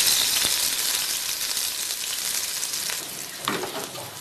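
Garlic paste and ginger paste fry together in a hot pan with a loud, bright, steady sizzle that eases slightly, with a faint stirring scrape near the end and no talk.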